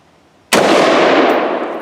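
A single loud, close shot from a Palmetto State Armory AR15 rifle with a binary trigger, a sharp crack followed by a long echoing decay.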